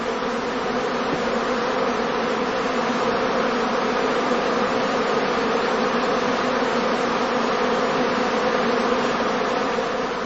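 Dense, continuous buzzing of a honeybee swarm massing at the flight entrance of a heather straw skep. The loud hum holds steady and close throughout, with no voices.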